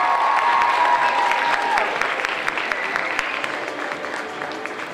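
Audience at a gala concert of a dance festival in Prague clapping steadily and densely, a full sustained round of applause that slowly tapers, with a faint tone briefly sounding above it.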